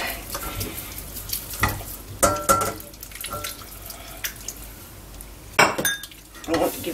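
A whisk or spoon works béchamel sauce in a saucepan, with clinks and scrapes against the metal in an irregular rhythm, close and moderately loud, plus a few sharper knocks of utensil on pan.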